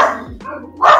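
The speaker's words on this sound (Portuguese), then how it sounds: "Os cachorrinhos estão latindo." Puppies barking close by in a room, two or three short high yips separated by brief gaps.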